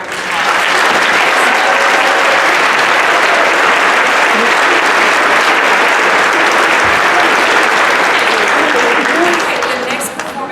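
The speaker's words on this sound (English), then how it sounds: "Can we give them one more round of applause?" Sustained, dense applause from a large audience after a choir performance, loud and steady for about ten seconds before tapering slightly at the end.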